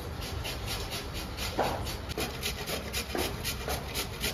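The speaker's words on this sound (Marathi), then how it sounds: "आता आपण सालं काढून घेतलेली आहेत, आता किसूया. हे किसून घेऊया." Peeled raw mango is grated by hand in a home kitchen, producing soft, rhythmic rasping strokes at a steady pace, close and fairly quiet over faint background hiss.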